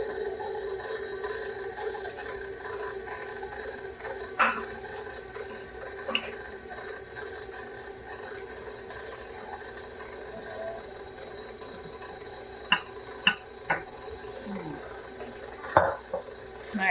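A stand mixer kneads wheat bread dough in a home kitchen, giving a steady mechanical whir with a ratcheting gear texture and a few sharp clicks and knocks near the end. The sound is moderately loud and there is no talking.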